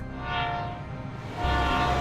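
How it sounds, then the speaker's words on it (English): A train rolling past, with a low rumble and a sustained horn-like tone swelling twice, moderately loud over about two seconds. "Every time that train goes by, it makes it go down, right?"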